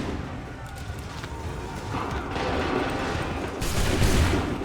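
Musket volley fire in the Assassin's Creed III Remastered video game, a dense rolling crackle of gunshots building in loudness over a few seconds, with a heavier burst near the end and battlefield noise underneath.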